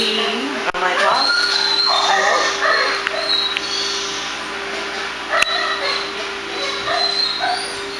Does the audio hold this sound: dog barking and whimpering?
yes